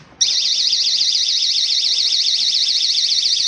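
A GE personal security window and door alarm goes off abruptly after a brief quiet moment, holding a loud, piercing, warbling electronic siren without pause, close by and alone.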